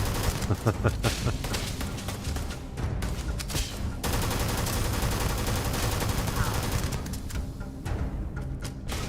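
Sustained rapid gunfire from a gun in Starfield, dense automatic bursts of shots running almost continuously, loud and close, with a voice talking faintly underneath.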